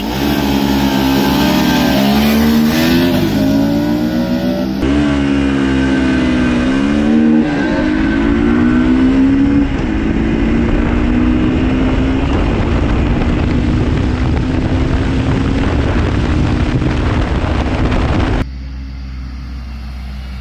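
A Hero Xtreme 200S and a Pulsar RS200 launching at full throttle, loud engine revs rising through several gear shifts in a long continuous roar close by, then cutting to a lower steady drone, with no talking.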